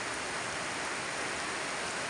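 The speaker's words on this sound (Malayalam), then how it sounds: "മഴ ശക്തമായിട്ട് പെയ്തുകൊണ്ടിരിക്കുകയാണ്" Heavy monsoon rain in Kerala's Wayanad district, a steady dense hiss of downpour with no pauses, fairly faint and even throughout, no voices.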